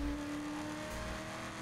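A stolen police car driving in Saints Row The Third, with a steady engine drone holding a constant pitch. It is moderately loud and continuous, and no voices can be heard.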